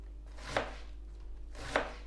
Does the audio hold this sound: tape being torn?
no